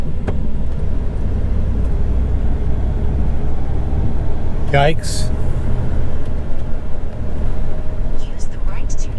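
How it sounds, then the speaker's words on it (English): Inside a car driving out of Las Vegas in heavy traffic, a loud, steady road rumble fills the whole stretch, with a brief exclamation from a voice partway through. "Oh gosh, traffic is awful."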